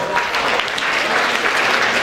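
Steady, dense audience applause at the Klusie ūdeņi 2015 stage event in Aizkraukle, Latvia, greeting a performer called onto the stage, loud and continuous throughout with no pause.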